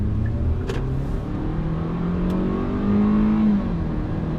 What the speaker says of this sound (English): Let's do a little bit of an acceleration here as we merge.